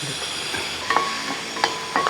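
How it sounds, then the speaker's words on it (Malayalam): Dried red chillies sizzling and crackling in hot coconut oil in a pan, a steady close frying hiss with a few sharp pops and stirring scrapes, no voices. "എണ്ണ ചൂടാൻ ശേഷം ഒരു പത്ത് പറ്റൽ മുളക് അതങ്ങോട്ട് ഇട്ട് കൊടുക്കാം"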